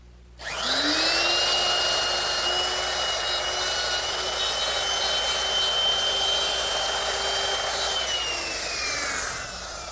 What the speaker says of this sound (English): I simply slide it over to my layout line, clamp it down, and I'll just run the router through it.